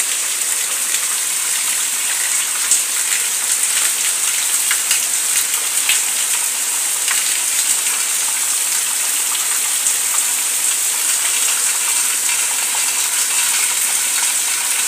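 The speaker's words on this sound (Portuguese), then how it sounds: "A chuva, a chuva, a chuva." Heavy rain falls in a steady, dense hiss with scattered droplet taps and patters, constant and close throughout with no pauses.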